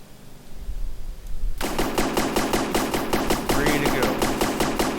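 A ship's four guns fire in a video game, rapid sustained bursts of loud automatic fire breaking out after a short quiet start and continuing steadily to the end.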